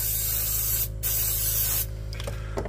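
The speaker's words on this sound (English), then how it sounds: "This is a specific spray can for that from CRC throttle body cleaner" A CRC throttle body cleaner aerosol can sprays in close, hissing bursts on a Kia engine, with a brief pause between sprays and a low electrical hum underneath.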